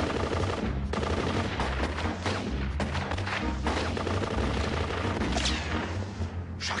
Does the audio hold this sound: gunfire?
yes